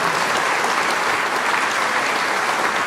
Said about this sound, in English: You want to applaud them?